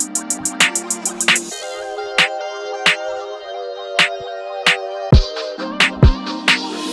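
Hip-hop beat built from a steady sustained melodic synth pad with regular sharp percussive hits, opening with a quick run of rapid ticks before settling into an even groove, with no voices.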